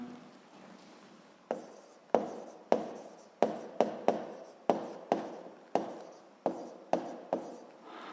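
Handwriting during a seventh-grade physics lesson, a dozen sharp pen or chalk strokes tapping out an uneven rhythm, close and fairly faint with no voices.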